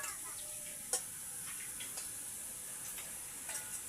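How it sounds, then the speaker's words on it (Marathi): Chilli masala, turmeric and salt sauté in hot oil with a faint, steady sizzle and a few light stirring taps. "जोपर्यंत मसाल्याला तेल सुटत नाही तोपर्यंत परतून घ्यायचं आहे"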